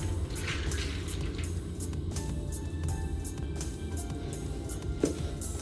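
Water is splashed and scrubbed over a used shoe being cleaned with a Magic Eraser, giving a steady wet hiss with a rapid series of soft regular scrubbing strokes and a brief splash near the end, no voices.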